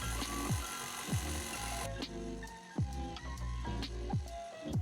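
A stand mixer with a dough hook works hot cross bun dough, a continuous motor whir with rhythmic periodic thumps and knocks as the hook turns, fairly steady and moderately loud with no talking.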